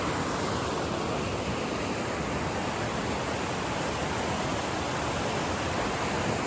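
Steady, loud rushing of a mountain creek flowing beside a hiking trail near Pine River, a dense continuous wash of water noise with no pauses and no voices.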